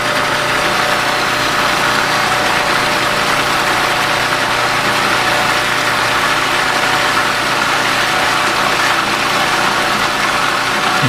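A mixing machine running at speed while emulsifying eggs with corn oil for a salad dressing, giving a loud, continuous motor whir that stays steady and unbroken throughout.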